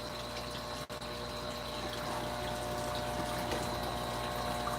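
Pumped water flows steadily through rerouted plumbing, diverted from an upper reservoir down into a return line. The flow is a continuous, moderately loud rush with no talk over it.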